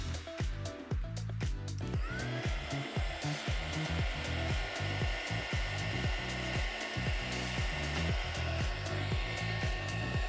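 A heat gun blows a steady, loud whooshing roar as it shrinks heat shrink tubing for a custom zipper pull, running continuously with faint clicking and handling noises throughout.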